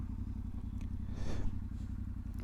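Yamaha Tenere 700 World Raid motorcycle engine running while riding, a steady low rumble held at an even, moderate level throughout with a brief swell of wind or passing noise in the middle; no talk.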